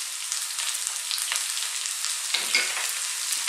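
Potatoes fry with onions and garlic ginger paste in a pan, giving a steady close hiss and crackle with a brief stirring scrape midway, no talking.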